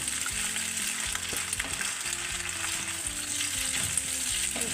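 A vegetable garnish seasoned with black pepper and chili sizzles in a pan for spicy macaroni, with a continuous close fry under rhythmic scraping strokes of stirring and a low steady hum beneath.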